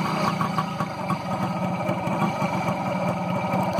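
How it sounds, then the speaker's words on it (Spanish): A Suzuki AX100 motorcycle with a 12-volt system and rev counter idles at around 1500 rpm, giving a close, steady, rapid putter with no talking. "Esta es una moto que regula alrededor de las 1500 vueltas, menos que eso ya se para."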